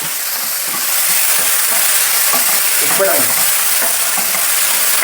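Chopped tomato and onion stirred and sautéed in a pan for an egg curry, loud continuous sizzling with scraping stir strokes close up, no talk.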